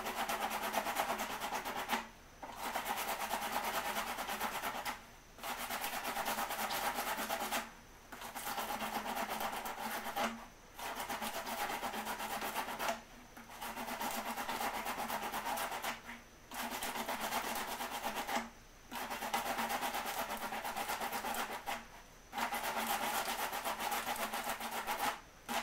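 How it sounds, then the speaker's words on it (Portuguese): Edge of a ring being sanded in repeated strokes: a harsh, scratchy rubbing that comes in regular bursts of about two to three seconds, each separated by a short pause, heard close and alone. "lixo a borda que assim eu diminuo a superfície de contato"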